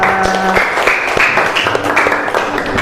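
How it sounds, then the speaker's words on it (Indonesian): A classroom group claps together at a teacher-training lesson, loud and close, with individual hand claps standing out over a steady patter while faint voices and tones sound beneath. "Beri tepuk tangan untuk kita semua."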